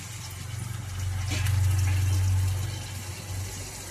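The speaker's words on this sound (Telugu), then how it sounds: "వాటర్ వేస్తున్నాను." Water pours steadily into a pot of fish curry, a low gushing rush that swells in the middle and tapers off, with no voices.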